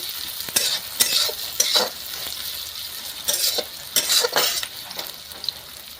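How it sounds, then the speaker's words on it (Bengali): Peas fry in hot oil with a soft, steady sizzle, broken by repeated scraping strokes of a spoon against the pan, close by and with no one speaking. "ছেড়ে দিচ্ছি তেলটা ফ্রাই করে নিচ্ছি"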